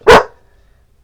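A single sharp dog bark rings out close by, lasting a fraction of a second before quiet returns.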